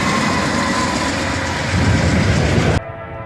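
A freight train locomotive rumbles past close by with a loud, steady mechanical roar and rattle that cuts off abruptly near the end, leaving a quieter low hum.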